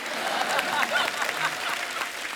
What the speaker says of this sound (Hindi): एक बार जोरदार तालियां हो जाएं अजय देवगन साहब के लिए